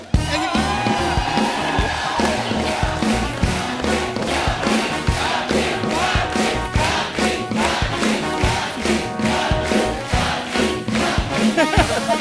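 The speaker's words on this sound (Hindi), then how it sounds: "आप तालियां बजाई जा रहे हो" A studio audience claps and cheers on a comedy show, sustained loud rhythmic applause filling the room with whoops mixed in, steady from start to finish.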